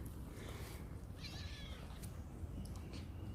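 Cats meow while being handed treats indoors, with a drawn-out meow in the middle and a few shorter, softer cries around it over a low background rumble.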